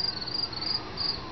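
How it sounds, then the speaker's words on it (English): A cricket outside a house chirps in a continuous, close, high-pitched trill that keeps an even level throughout. "So we got Mr. Cricket outside, and he just is trying to get back into Kathy's house."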